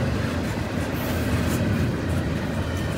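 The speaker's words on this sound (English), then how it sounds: "This was NS229 with C-Rail 1350 locomotive ES44 on the front." A southbound Norfolk Southern freight train, NS229, led by an ES44 locomotive, rolls past at Gornto Road with a loud, steady rumble and rail noise throughout.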